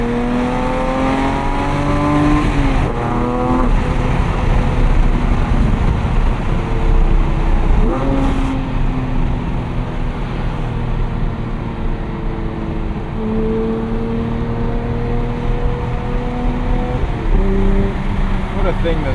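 Loud engine of a 2025 Porsche 911 GT3 while driving, revving high and shifting through gears with rising and falling pitch sweeps, steady and close throughout, with a voice talking over it.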